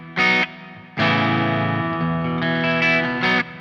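Electric guitar played through the clean channel of an EVH amp: loud, close strummed chords and short ringing notes in a few bursts, with a bright, slightly driven edge and no voices.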